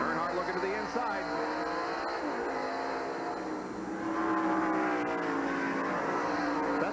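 Race cars roaring steadily on a road course during a 1990 NASCAR race, a dense continuous engine drone with shifting pitches as cars pass, under a commentator's voice throughout.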